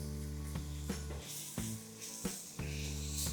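Chopped tomatoes sizzling in a pan for a masala cheese pav topping, a steady close frying hiss with occasional stirring clicks and scrapes.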